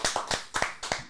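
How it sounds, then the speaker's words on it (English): A few sharp hand claps ring out close by, about six quick strikes in an uneven rhythm, loud and alone, with no talking over them. "Clap it up, clap it up."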